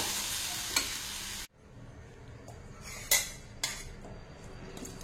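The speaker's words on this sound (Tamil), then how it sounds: "கொத்தமல்லி இலைகள் வந்து இந்த அளவுக்கு வதங்கினா போதுங்க" Coriander leaves being sautéed in a pan while cooking chutney, giving a steady close sizzle and stirring noise with a few sharp clinks of a utensil against the pan and a brief drop-out in the middle.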